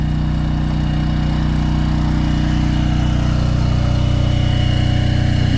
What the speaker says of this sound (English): So we got that hydraulic motor turning that drill